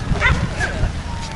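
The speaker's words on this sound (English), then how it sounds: "That's such a cute dog." An Afghan hound gives soft yips and whimpery barks outdoors, close by and mixed with people talking.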